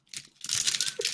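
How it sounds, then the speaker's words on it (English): A Sun Chips wrapper is crunched up, giving a burst of crinkly, crackling plastic rustles that start soft, swell loud and keep crackling close by. "That sounds like a Sun Chips wrapper that you were just crunching up."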